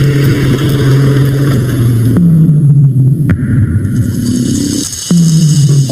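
A meat truck drives steadily at a lion centre, its loud, continuous engine drone holding a low pitch that shifts as it moves, with no talk.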